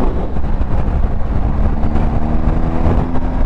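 Wind roars over the rider of a 2020 BMW R1250 GSA motorcycle on the road, a loud, dense rush with engine rumble underneath and no break throughout.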